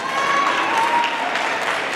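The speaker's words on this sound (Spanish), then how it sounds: "Aplausos para el Pejejito." Guests at a child's third birthday party applaud during a game, a continuous, moderately loud mass of clapping with faint crowd murmur beneath.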